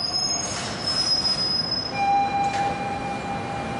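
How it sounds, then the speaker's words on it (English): A New York M subway train at Fresh Pond station in Queens lets out sustained high-pitched wheel squeals over a steady rumble, with shifting screeching tones lasting throughout. "Patricia Massari catches the M train to downtown Manhattan."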